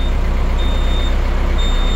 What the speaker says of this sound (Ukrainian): Даємо трохи йому газу.